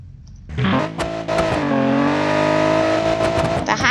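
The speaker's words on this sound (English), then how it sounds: "The sound of the engine is especially good." A car engine in the driving game BeamNG.drive roars loudly, revving up and holding a high, strained whine for several seconds before dropping briefly and surging again.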